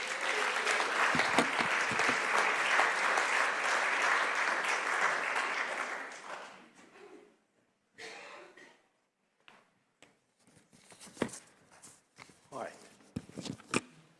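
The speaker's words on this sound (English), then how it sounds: "let's give them a round of applause" Applause from a congregation at a church meeting, a steady crowd clapping that lasts about six seconds before dying away, followed by quiet shuffling, knocks and handling noises.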